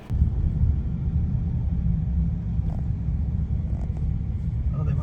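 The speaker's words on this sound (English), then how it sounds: "we just gotta get through all this traffic" A car moving through 5:30 rush-hour traffic, heard from inside as a steady low road rumble and engine drone, with faint passing sounds and no clear speech.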